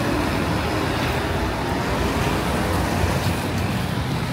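Steady road traffic along a city street in Dar es Salaam, with buses and cars passing where people wait to board a bus, forming a continuous broadband roar at constant loudness with no clear individual pass-bys.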